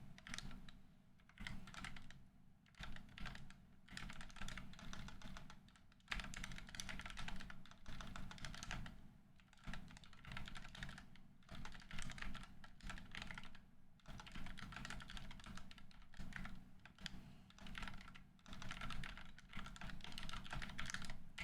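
Fast, continuous typing on a newly bought computer keyboard, a dense, steady clatter of keystrokes held close for over twenty seconds with only a few brief pauses.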